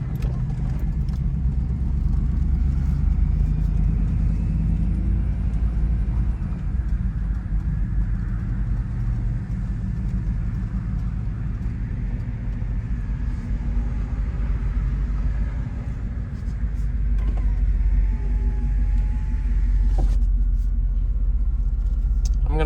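A restored 1990 Chevrolet Suburban V1500 Silverado 4x4 heading out on a drive, heard as a loud, constant low engine and road rumble from inside the cab.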